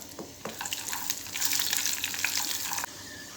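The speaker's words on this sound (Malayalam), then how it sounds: "ഇതിലോട്ട് നമുക്ക് മുന്തിരിയും ചേർത്ത് കൊടുക്കാം അതും കൂടി ഒന്ന് ഫ്രൈ ആക്കിയിട്ട്" Cashews and raisins frying in hot ghee in a pan for mango payasam, a steady bright sizzle with a few stirring clinks, fairly close and continuous throughout.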